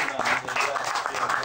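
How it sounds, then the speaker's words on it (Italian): Applause at a book-festival award presentation, a dense, steady burst of clapping from a crowd lasting about a second and a half, with voices mixed in. "Un applauso."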